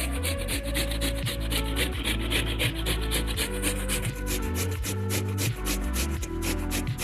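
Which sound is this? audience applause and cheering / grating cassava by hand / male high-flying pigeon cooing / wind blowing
grating cassava by hand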